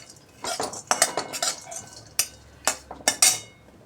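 Almonds being dry-roasted and stirred in a pan, with a utensil scraping and clinking against the metal in short, irregular bursts, close and moderately loud, with quiet gaps between strokes and no talking.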